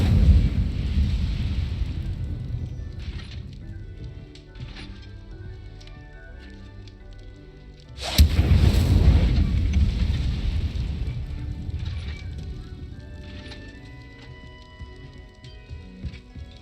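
Incendio fire spell in Hogwarts Legacy bursts with a sudden whooshing blast midway, following a rumbling fiery roar that fades and swells again, loud and near.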